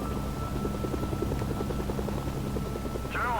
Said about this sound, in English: North Korean helicopters spawn in this city